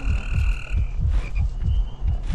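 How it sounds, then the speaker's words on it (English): A heartbeat in the horror video game Miamata thumps in a steady, slow, deep double-pulse rhythm of about six beats, close and prominent, with faint eerie tones above it. "I hear your heartbeat."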